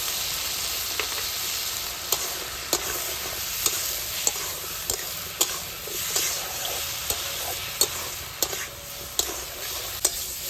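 Malabar spinach stems stir-fried with ginger paste, mustard paste and ground spices in a pan, a constant close sizzle punctuated by regular spatula knocks and scrapes, with no voices.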